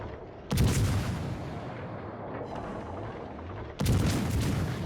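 Two heavy ship gun salvos in a naval video game boom out about three seconds apart, each a loud, sharp report followed by a long rolling rumble.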